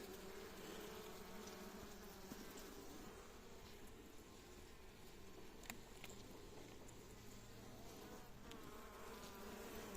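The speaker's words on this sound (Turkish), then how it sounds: "İnce ince vızıltama seslerini duyuyorsunuzdur inşallah." A dense, continuous buzzing of many honey bees at a hive, faint and steady, like a busy swarm close by.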